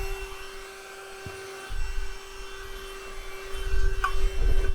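A Yyton portable handheld high-power car vacuum cleaner runs with a steady whining motor hum, getting louder and rougher partway through as it is moved around, with no talking.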